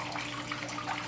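Water rushes steadily as it drains out of an aquaponics grow bed, a close, even broadband wash with no pauses and no talk.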